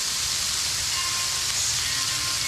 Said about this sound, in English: So you wait for a few seconds for it to sizzle away.